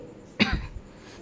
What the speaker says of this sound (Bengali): এত কাশি হয়েছে কি বলবো